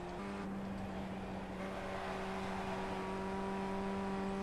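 Formula Rookies open-wheel race car engine in iRacing, a steady loud drone with strong sustained tones running throughout, held at high revs with no talk.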